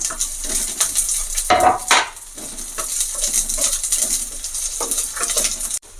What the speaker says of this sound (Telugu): వెంటనే అందులోనే మనం ఇందాక కట్ చేసుకున్న ఆనియన్స్ వేసేసి ఆనియన్స్ వేసుకుని ఒకసారి కలుపుకుని